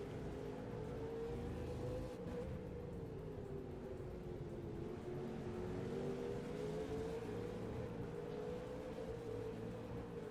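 V8 race cars circle the Hidden Valley circuit in a sim racing game, their engines blending into a faint, continuous droning whine that rises and falls gently in pitch, with no voices.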